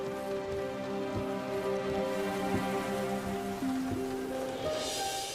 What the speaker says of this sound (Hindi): ऐसी बारिश हो रही थी उस वक्त भी